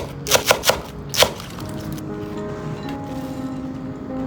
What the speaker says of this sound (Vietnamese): đập dập cái phần gốc trước sau đó thái nhỏ